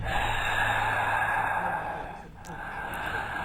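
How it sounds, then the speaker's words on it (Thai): Heavy, breathy exhaling hovers beside the player in a horror video game, a continuous airy rasp that dips briefly midway and returns, heard alone without talk. "คล้ายๆ เหมือนมีเสียงคนหายใจอยู่ข้าง เราอยู่ตลอดเวลานะครับ"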